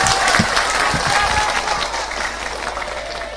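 Dense applause from an audience at a large open-air Islamic religious gathering (tabligh akbar) in Banten, Indonesia, steady and close, with a few louder claps standing out early on, then easing slightly toward the end.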